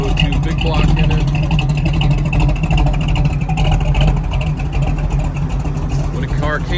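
A 1969 Chevy Camaro SS convertible with a ZZ 502 big block V8 runs at a steady rumbling idle, loud and close throughout, while someone talks over the engine.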